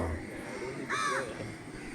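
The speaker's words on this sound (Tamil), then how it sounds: "பாருங்க, காக்கா இதை எடுத்துட்டு போச்சா." A crow gives a single clear caw outdoors among trees at a temple grounds, standing out briefly above a steady low background hiss.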